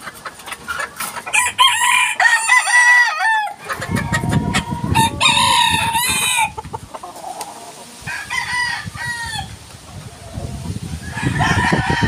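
A rooster crows loudly and repeatedly up close while chickens cluck around it, with brief bursts of louder commotion and a faint voice in the background.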